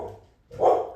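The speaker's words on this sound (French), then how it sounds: "Je pense qu'elle jappe après le tonnerre." A dog yaps in a short burst, apparently reacting to thunder, heard indoors as a single close bark toward the end.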